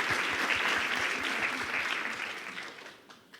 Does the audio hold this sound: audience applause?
yes